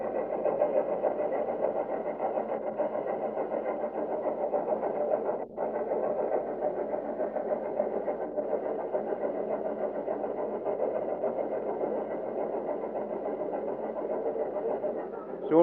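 A steam locomotive on the old Swansea Victoria railway route near the Clyne Valley brickworks runs close by, giving a steady, loud mechanical drone that holds without pause throughout.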